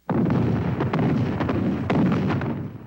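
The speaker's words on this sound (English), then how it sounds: "An artillery barrage opens the attack." Artillery barrage in a 1975 Vietnam War night attack on a South Vietnamese-held town, heavy booming blasts rolling one into another for a few seconds, loud and close with repeated sharp impacts.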